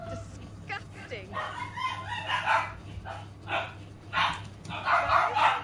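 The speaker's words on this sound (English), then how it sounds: "Sorry about the dogs in the background, guys." Several dogs bark in the background at middling distance, in irregular bursts that come and go over the length, with a low steady hum underneath.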